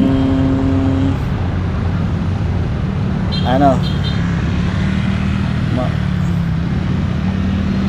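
Dense road noise from slow congested traffic of cars, bikes and motorcycles near a church, a continuous close rumble with a brief engine whine midway and talk over it.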